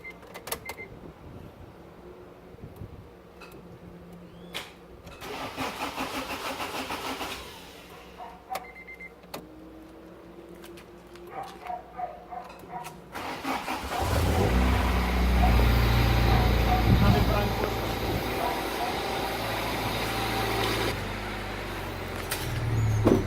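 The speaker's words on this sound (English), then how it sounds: "Bolt it back in and start the car and see if it runs." After a Walbro 255 fuel pump install, a car engine cranks and catches, settling into a loud, steady idle that follows quieter clicks and rustling.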